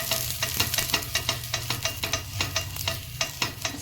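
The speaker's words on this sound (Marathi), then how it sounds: "ते कांद्याने तेल लावते भिड्याला" An onion is rubbed with oil across a hot dosa griddle, producing rhythmic scraping strokes over a steady sizzle, close and fairly loud, about a dozen passes with nobody speaking.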